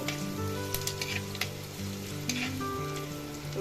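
Chopped ginger sizzles in hot oil in a pan for a fish curry, a continuous close frying hiss with light stirring clicks and a low steady hum.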